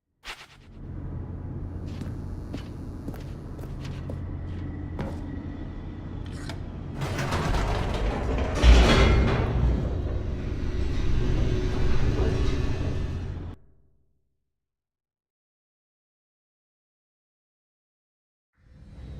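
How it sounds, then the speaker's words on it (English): A video-game elevator in The Stanley Parable drops fast, a loud mechanical rumble with grinding, creaking and clanks that swells midway, then stops abruptly into silence. "The elevator raced downward, plummeting towards an unknown fate."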